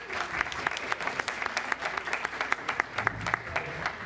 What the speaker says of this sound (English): So give Brenda a great big round of applause